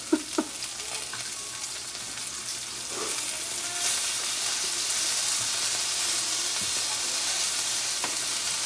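Food frying in a big pan, a steady hiss and sizzle with a few small pops and clinks early on, the crackle swelling slightly partway through and staying close without any talk.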